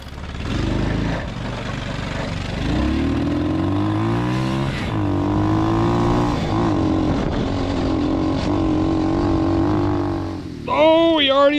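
An off-road barn-find go kart with a swapped HO 140cc four-speed engine revs and pulls away, its small motor droning and climbing through gears, loud and close, while a person speaks briefly over it.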